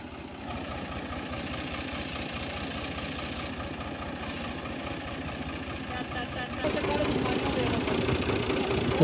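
A Fiat 480 tractor engine runs with an 8-inch fan attached behind it, a steady close mechanical chugging that grows a little louder toward the end while people talk over it.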